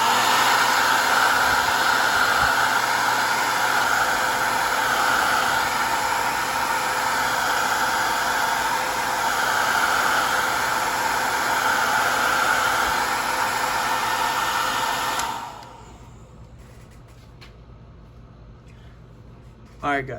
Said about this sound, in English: I left the blow dryer on the figures a little bit more